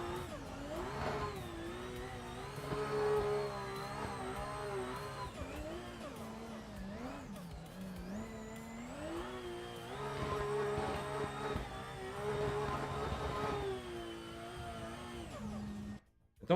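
A 1000 HP competition race car in a driving game on Silverstone accelerates hard, its engine note climbing steadily through the gears with sharp drops at each shift, loud and continuous throughout.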